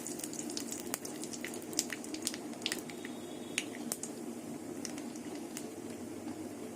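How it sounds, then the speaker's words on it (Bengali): Dried red chillies and nigella seeds sizzle in hot mustard oil, a steady close crackle with scattered sharp pops throughout and no talking. "তেল গরম হয়ে গেছে দুটো শুকনো লঙ্কা দিয়ে দেবো আর কালো জিরে আগে থাকতে হাতে ডলে নিয়েছি কালো জিরে দিয়ে দেবো"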